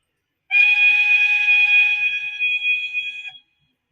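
Accurascale J69 model locomotive's sound-effect whistle, a single loud, shrill, steady tone held for about three seconds and then cut off, alone against silence.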